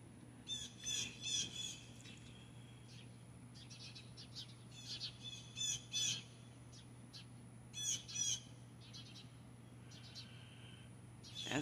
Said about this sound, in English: That's it. That's a hawk.